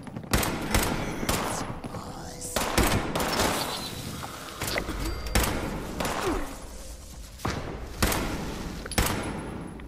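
Bursts of enemy gunfire in the Fallout 76 video game crack out in rapid volleys, with single shots and sustained automatic fire spread through the stretch alongside heavy thuds, fairly loud with no talk.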